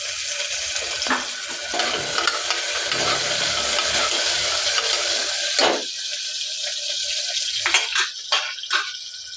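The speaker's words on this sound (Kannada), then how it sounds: "ಇವಾಗ ಕಟ್ ಮಾಡಿರೋ ತರಕಾರಿ ಸ್ವಲ್ಪ ಎಣ್ಣೆಯಲ್ಲಿ ಫ್ರೈ ಆಗಲಿ ಅಂತ ಇದ್ದೀನಿ" Chopped vegetables frying in oil in a pan after onion, garlic and tomato, a steady close sizzle with occasional stirring scrapes, followed by a few clinks near the end.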